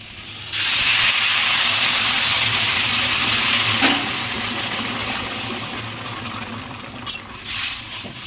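A loud burst of hissing and sizzling as water hits cauliflower frying in a hot pan, easing into a steady simmering hiss with a few clinks.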